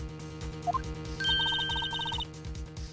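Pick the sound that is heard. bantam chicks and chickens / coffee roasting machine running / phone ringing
phone ringing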